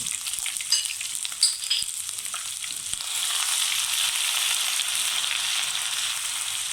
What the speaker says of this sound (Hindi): अब हम इसको थोड़ी देर के लिए फ्राई करेंगे।